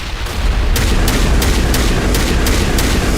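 Grenade explosions and gunfire from a Mass Effect battle, a steady loud barrage of booms with repeated sharp cracks recurring through dense low rumble.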